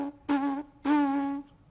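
Lips buzz into a trumpet mouthpiece in two sustained, nasal buzzes, the second longer, close and clear with no talking.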